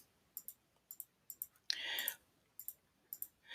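A computer mouse clicks repeatedly while Control is held, a series of quiet, sharp, close clicks in small clusters, with one brief louder rustle in the middle.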